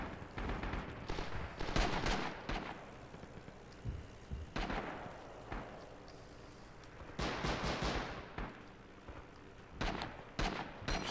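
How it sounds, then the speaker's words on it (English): Scattered gunfire and distant explosive bursts in the war game Rising Storm, irregular cracks and booming impacts spread across a noisy battlefield ambience, moderately loud with no talk. "I think they fired a couple of rounds at that guy up there."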